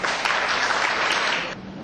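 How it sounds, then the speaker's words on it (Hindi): Brief, dense clapping from an audience at a Hindi Divas poetry gathering, welcoming the attendees, holding steady and then easing slightly at the end. "इसलिए सबसे पहले तालियां आपके लिए।"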